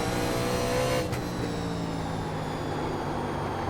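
A 1987 NASCAR Legends race car in the iRacing sim drones steadily toward the pits at Nashville Fairgrounds, its loud engine note holding near-constant with a brief dip partway through.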